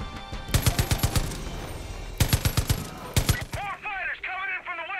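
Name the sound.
machine gun fire in the video game Far Cry 5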